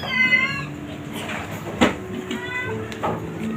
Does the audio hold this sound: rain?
no